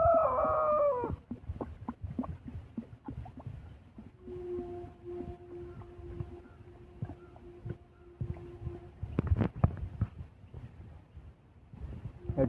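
A rooster in swimming training gives short calls near the start, followed by splashing and scattered knocks, with a faint sustained tone running through the middle.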